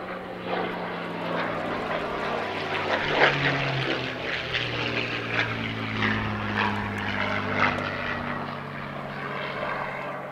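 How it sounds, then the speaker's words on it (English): A Second World War propeller aircraft flies a display at the Southport Airshow 2022, its engine giving a sustained, loud, droning roar with steady tonal harmonics that swells and shifts slightly as it passes. "Following that, we return to the Second World War, and we go now to a display that makes me feel a little bit nostalgic, because the pilot of this aircraft is Peter"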